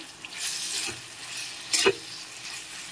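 Carrots and beans fry in a pan with salt and ginger-garlic paste, a soft, steady sizzle broken by a couple of brief scraping stirs, with one sharper clatter near the middle.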